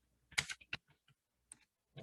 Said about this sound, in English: I'm gonna go ahead and type